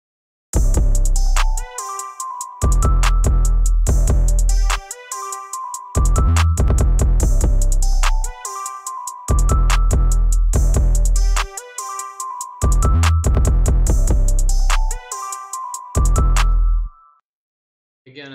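Recreated hip-hop beat: heavy booming bass and punchy drums under bright looping synth melody, playing in repeating bars with brief dropouts, loud and alone before fading out at the end.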